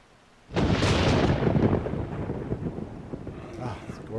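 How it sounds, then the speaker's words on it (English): Heavy rain and rolling thunder from the weather effects in the survival game 7 Days to Die, bursting in loud after a quiet start and continuing as a broad, steady wash. "Love the rain effects now."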